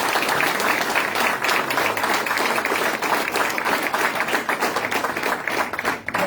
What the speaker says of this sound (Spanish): el otro el compañero Néstor Lafleur, para los que pido un aplauso